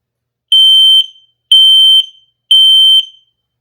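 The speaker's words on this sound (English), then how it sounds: "Testing the smoke sensor." Three loud, shrill electronic beeps from a smoke and carbon monoxide alarm during its self-test, each about half a second long, evenly spaced with brief silence between.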